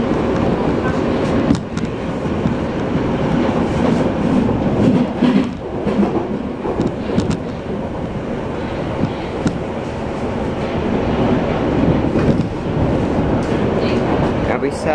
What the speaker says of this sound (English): this train's not that interesting.